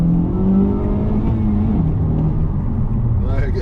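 A Honda Civic Type R FL5 engine drones steadily from inside the car as it accelerates through turns, its pitch shifting with the revs, while a person talks over it.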